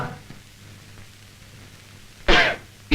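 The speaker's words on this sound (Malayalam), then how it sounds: "നിന്റെ ചുമ എങ്ങനെ ഇരിക്കുന്നു?" A single short, harsh cough bursts out near the end of a quiet movie scene, followed by the start of another, over a low hum of background noise.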